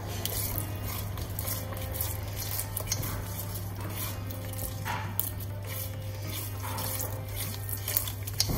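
Water from a tap runs into flour for Moroccan harira, a soft continuous trickle in a kitchen with faint clinks of dishes and utensils and no talking.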